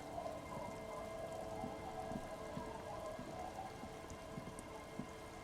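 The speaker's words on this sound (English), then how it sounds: "It's getting late, and it's raining." Rain falls steadily in a video game scene at night, a soft continuous patter on surfaces with faint rumbling beneath, fairly quiet and without speech.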